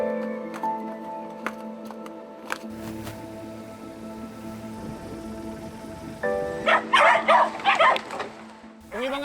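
Hungry dogs left on an island bark, yip and whimper, one voice near with sharp barks early and a louder burst of overlapping barking toward the end, over a humming background.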